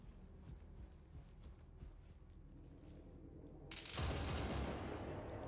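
Scattered distant gunfire crackles in the Arma 3 military shooter, then a much louder, dense burst of shots erupts near the end and continues to the close.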